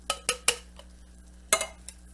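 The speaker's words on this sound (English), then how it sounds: "Dump it into another can, give it a swish." Liquid swished around in a metal can in a kitchen, heard as a few sharp metallic clanks and sloshing knocks in a quick burst, then a pause and another couple of clanks, close up.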